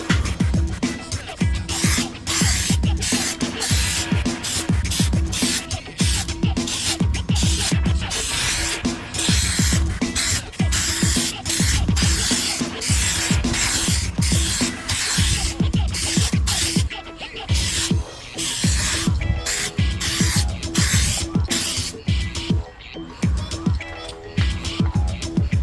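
Aerosol sealant sprayed onto a restored car headlight on a BA Falcon XR8, heard as repeated short hissing bursts in a quick irregular rhythm, close and fairly loud.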